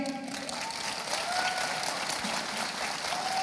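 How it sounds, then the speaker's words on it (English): One side of an audience at a youth festival bursts into loud, continuous applause with some cheering, a dense crowd clapping nearby throughout. "A big round of applause from this side."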